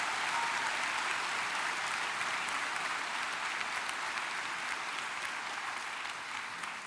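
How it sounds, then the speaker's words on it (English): Sustained audience applause fills a graduation ceremony hall, a dense, steady wash of many hands clapping at once that holds evenly loud throughout before tapering slightly at the end. "We might give all of them a round of applause just to show our appreciation."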